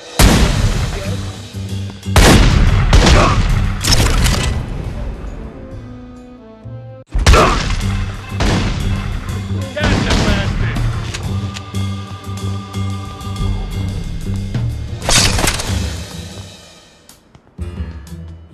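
Repeated loud gunfire bursts in the Godfather 2 video game at the Almeida compound, with sharp shots and heavy booms in clusters, brief pauses, then renewed volleys alongside a constant low hum.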